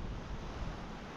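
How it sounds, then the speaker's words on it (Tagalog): Strong shoreline wind buffets the microphone over the roar of big waves, a dense, loud, continuous rush with no pauses. "malakas pa rin yung hangin. Di tayo makapagpamana dulot ng malalaki yung alon."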